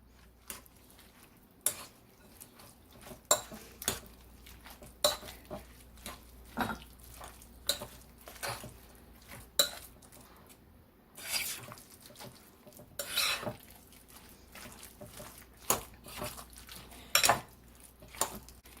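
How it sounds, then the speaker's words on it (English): Tuna casserole ingredients stirred together in a bowl, a run of sharp utensil scrapes and clinks against the bowl's side, close and irregular, with no talking. "And then just mix it all up together."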